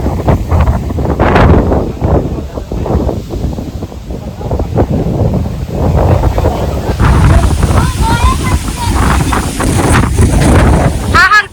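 Strong wind roars and buffets continuously, with gusty rumbling throughout and voices faintly mixed in.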